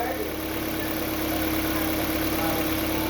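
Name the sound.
Hyundai Veloster engine running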